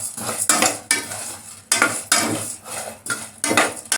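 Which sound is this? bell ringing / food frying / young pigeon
food frying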